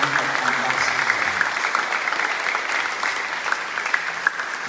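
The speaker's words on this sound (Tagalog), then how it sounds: "Bigyan sila ng masigabong palakpakan, mas malakas na palakpak bilang pagtanggap sa kanila." Steady crowd applause greets newlyweds Harold and Joyce at their wedding ceremony, a dense, continuous patter of many hands holding at an even level for several seconds, with faint voices underneath.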